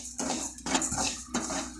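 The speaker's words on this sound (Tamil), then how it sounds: "அப்படியே சிம்மில் வச்சு வாசனை வர வரைக்கும் வறுத்துக்கலாம்" Urad dal being dry-roasted in a pan over a low flame, with a few quick scraping clinks of a spatula stirring against the metal pan.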